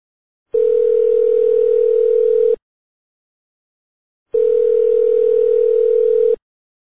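A telephone ringback tone plays while a call is placed from a television game show studio: two long, steady, loud beeps, each about two seconds, separated by a stretch of silence.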